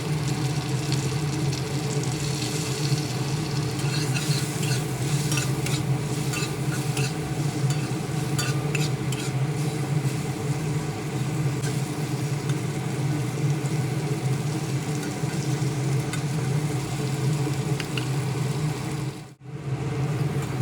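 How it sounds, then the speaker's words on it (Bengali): Potato pieces with salt and turmeric fry in hot oil, a continuous close sizzle with repeated scraping and stirring strokes and a brief dip just before the end. "এখন এই গরম তেলে আলুর টুকরোগুলো ছেড়ে দিয়ে এর মধ্যে সামান্য লবণ ও হলুদ দিয়ে ভালোভাবে নেড়ে চেড়ে ভাজতে থাকবো"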